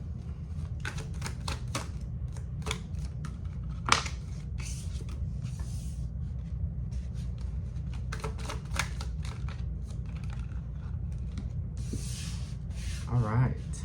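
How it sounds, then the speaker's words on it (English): Cards are shuffled and pulled for a reading, giving soft scattered riffles, slaps and rubbing close by. A voice talks quietly through much of it. "let me pull some cards here"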